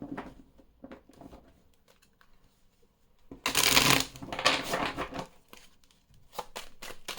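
Oracle cards being shuffled by hand, heard as a burst of crisp riffling and fluttering that swells loudly, then settles into softer card taps and a few sharp flicks, with no voices.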